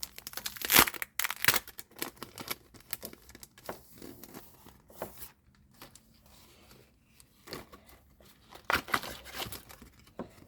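Crinkling and tearing of a Sanrio sticker packet wrapper, close up, in irregular bursts of rustling plastic with quieter handling between them.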